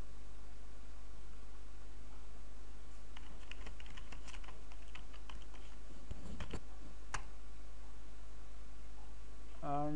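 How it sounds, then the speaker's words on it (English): Messages are typed on a computer keyboard, a quick run of close, light key clicks over a steady low hum, with brief talk near the end. "I can type messages, and it will be sent to them instantly."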